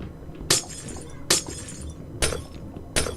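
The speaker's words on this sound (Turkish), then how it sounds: "Haydi haydi camı kırıp karşıya geçebilirsiniz." Glass panes break in the video game Minecraft, four crisp shattering crashes at uneven intervals, loud and close over faint background noise.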